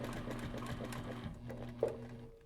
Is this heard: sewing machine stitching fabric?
yes